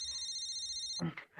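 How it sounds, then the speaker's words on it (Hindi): A mobile phone rings with a bright electronic tone for about a second, then a person starts talking. "लगता है सोनम के भाई आ गए, उन्हीं का फोन है।"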